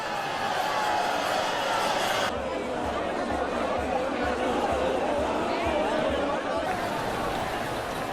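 Pilgrims at the Ratha Yatra chariot festival in Jagannath Puri, Orissa, make a dense, continuous crowd noise of many voices, with a sustained roar and low rumble that hold steady the whole time.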